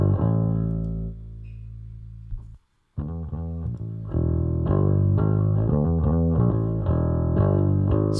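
A gritty bass line shaped by a harmonic distortion plugin plays alone, its tone thick and growling, with a brief drop to silence before the notes resume louder.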